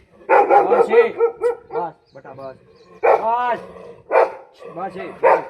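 A dog shut inside a village building barks in loud, close bursts, pausing between volleys, with a yip or whimper mixed in.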